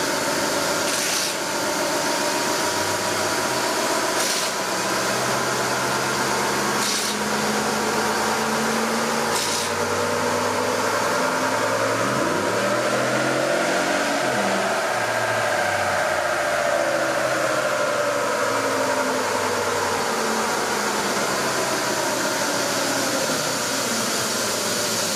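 A 2019 Ram Rebel pickup running wide open on a chassis dyno, its engine roaring steadily as the revs climb and fall through the gears, loud and unbroken for about 25 seconds.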